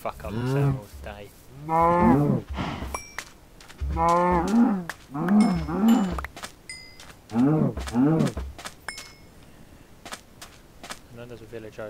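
Cows in the Minecraft video game moo repeatedly in a rhythmic series of loud, close calls, with a few game clicks and sound effects in between.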